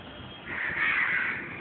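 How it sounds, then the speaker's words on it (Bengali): Crows caw loudly and near on a rooftop, a dense, harsh chorus of many birds that swells midway through and continues without any talk. "দেখছো অনেক কাক, অনেক, হাজার হাজার"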